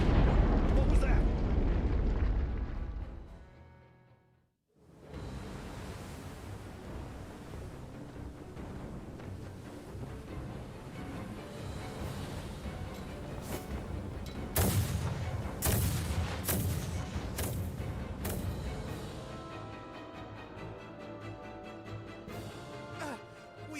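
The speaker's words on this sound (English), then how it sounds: "Their unceasing bombardment is laying waste to our forces." Naval bombardment in the video game Star Ocean The Divine Force: loud rumbling blasts and a dense roar break off briefly, then return with repeated sharp explosive impacts and a steady thunder, mixed with spoken dialogue.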